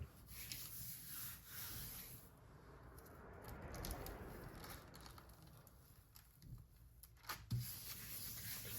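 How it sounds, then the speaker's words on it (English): Paper is rubbed by hand over a stencil on a gelli printing plate, making a soft, continuous scuffing and swishing with a few brief louder scrapes, fairly quiet and close. "Give it just a little more rub because I know it's gonna get some good stuff off the stencil."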